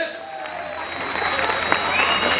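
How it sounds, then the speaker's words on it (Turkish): Crowd applause at a Trabzon promotion days event at the Yenikapı event area in Istanbul, a steady dense wash of many hands clapping that swells slightly toward the end, with faint speech-like sounds mixed in. "Alkışlar kendinize gelsin efendim"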